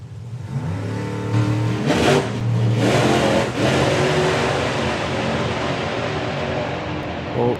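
A supercharged altered drag racing car launches and roars down the strip at a drag racing event, loud and sustained, its engine note climbing through the run.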